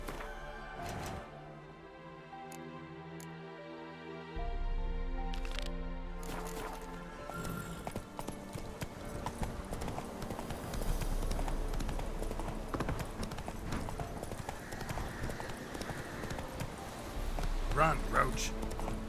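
Roach, the horse in The Witcher 3, gallops in a steady run of clip-clopping hoofbeats that grows louder and denser, mixed with other game sounds.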